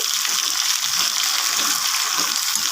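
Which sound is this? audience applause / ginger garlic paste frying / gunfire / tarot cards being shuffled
ginger garlic paste frying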